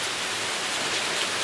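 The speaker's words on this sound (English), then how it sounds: "It is a beautiful rainy day. I'm outside on my screen-in porch here," Steady rain falls outside a screened-in porch, a dense, even hiss of drops on surfaces that fills the space without pause, close and moderately loud with no talking.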